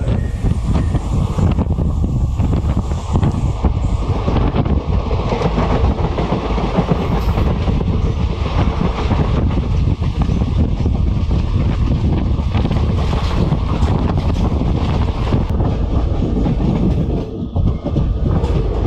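The Sabari Express train rumbles at speed through a station without stopping, with steady rhythmic clatter of wheels on rails and wind buffeting the microphone, loud and continuous throughout.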